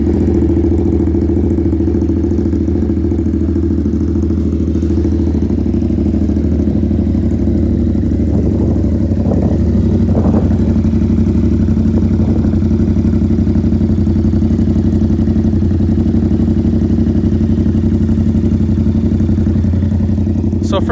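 A Yamaha XSR 700 motorcycle fitted with an aftermarket exhaust idles steadily up close, giving a continuous deep, even rumble that stays level throughout.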